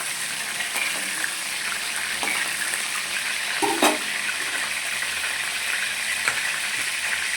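Eggplant is stirred in a hot pan for a simple rustic curry, sizzling in a continuous close hiss with a few faint scrapes and clinks of a utensil against the pan.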